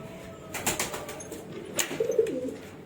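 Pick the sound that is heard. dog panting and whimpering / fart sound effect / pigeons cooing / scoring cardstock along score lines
pigeons cooing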